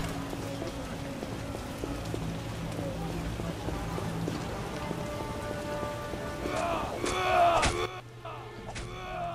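Rain falls steadily in The Witcher game, a constant close patter on surfaces with ambient tones and a few louder clinks near the end.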